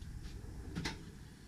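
A tool drawer in a home garage tool chest slides open once in a short, quiet thump-and-rattle, alone against faint room noise.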